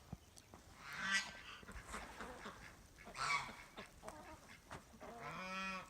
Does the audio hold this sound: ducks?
yes